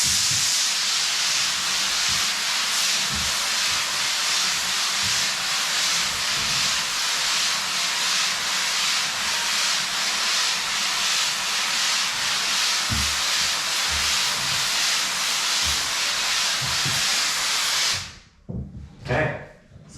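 A plaster spray machine hisses loudly as it blasts plaster onto a room wall, a sustained close pressurized spray with low mechanical thumps underneath, stopping abruptly near the end.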